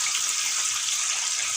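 Water splashed into a pan of frying onions, garlic and spices while cooking aloo methi sets off a steady, loud, hissing sizzle that holds evenly throughout, with no talking.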